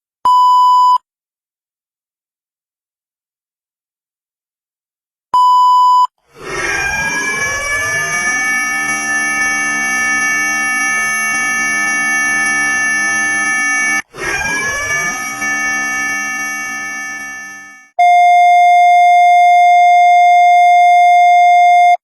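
Fan-made Gorilla Tag emergency alert system alarm: two short steady beeps, then a long loud wavering multi-tone alert blare that briefly cuts out, ending on a sustained single steady tone.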